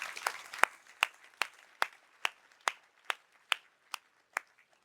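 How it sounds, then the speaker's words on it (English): Applause for the winner of a startup challenge at an AI conference: a series of sharp, evenly spaced claps about twice per second. They sound like a small group or a few people, moderately close, and fade toward the end with no voices. "Please give them a big round of applause."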